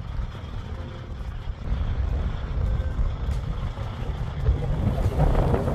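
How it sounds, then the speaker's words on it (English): Strong, gusting wind of around 35 mph buffets the microphone outdoors near a truck, a dense, continuous roar that swells louder toward the end, with no voices. "It's been windy all day long."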